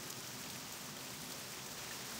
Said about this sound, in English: And I'll listen to the rain and vanilla WoW.